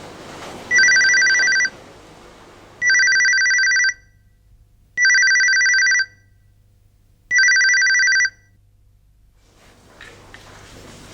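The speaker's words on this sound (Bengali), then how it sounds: "আমার ফোন এলো।" A mobile phone ringtone rings indoors in four loud, evenly spaced bursts of bright electronic trilling, each lasting about a second with quiet gaps between them.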